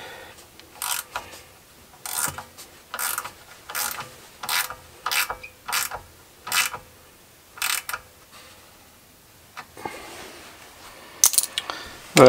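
A hand ratchet tightening the bolts on a brake caliper of a Mercedes 500 SL R129, giving a dozen or so short buzzing clicking bursts in an uneven rhythm, close and clear, with no talk.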